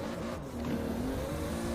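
A 1600 horsepower Toyota Supra in Forza Horizon 4 revs hard while drifting, a loud, steady, buzzing engine drone with slight pitch wavering and faint tire noise, continuous and up close, with no speech.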